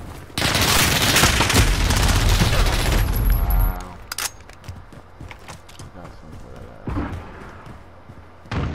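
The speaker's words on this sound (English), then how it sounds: "Cruise missile, go for launch." Cruise missile launch in a video game, a loud sustained roaring blast with rumbling thumps lasting a few seconds, then dropping to quieter scattered booms and clatter.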